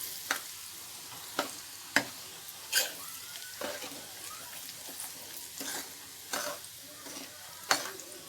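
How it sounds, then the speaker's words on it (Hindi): Spices roasting in a pan for raw mango pickle, stirred with a spoon: faint dry sizzling broken by sharp scraping clicks every second or so, close by with no voices. "अब हम इसमें ये सभी मसाले डालेंगे और 2 मिनट तक इसे भूनेंगे"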